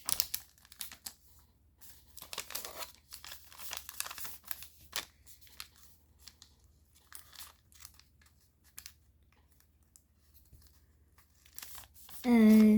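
Crisp paper crinkling and creasing while the wings of a folded paper jet are shaped, coming in scattered short rustles close up with pauses between them, and speech in the background.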